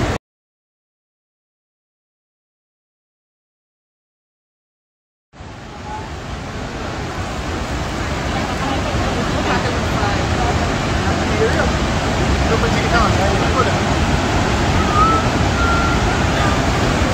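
Roaring water at Iguazu Falls bursts in after about five seconds of silence, then holds as a loud, steady, broadband rush that fills the rest of the clip.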